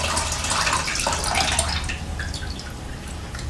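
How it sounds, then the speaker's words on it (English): Filtered water splashes and trickles steadily over soaked almonds being rinsed, a close, continuous watery patter that eases off slightly toward the end. "I'm just going to rinse them one more time to get rid of any last bitterness with filtered water."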